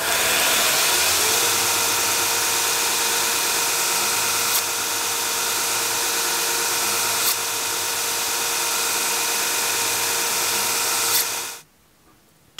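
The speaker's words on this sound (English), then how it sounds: "now we'll go to a 220 grit belt, partly worn, much finer finish." A belt sander with a partly worn 220 grit belt finishing a knife blade during restoration of an early DH Russell knife, a loud continuous whine and rush for about eleven seconds that then cuts off abruptly, no talking.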